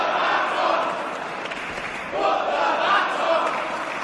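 Wrestling crowd in a Nottingham arena roars and chants steadily, a dense wall of voices that swells again partway through as the noise builds.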